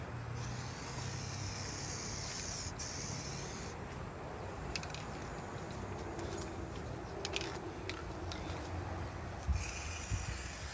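Gray spray paint hisses in steady bursts from an aerosol can onto the lid of a roof escape vent on a shuttle bus RV conversion, faint and close amid low background noise.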